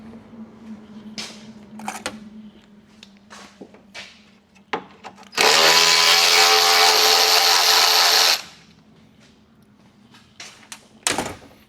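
A power tool runs in one steady, loud three-second burst, backing out the top headlight mount bolt on a 2013 Honda Accord. Quiet clicks and handling noises from the work come before and after it.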